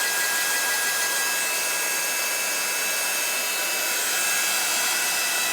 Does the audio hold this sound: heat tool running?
yes